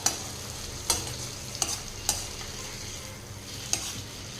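Tomatoes and spices sautéing in a pan for capsicum gravy, with a steady close sizzle broken by about five sharp, evenly spaced spatula knocks and scrapes.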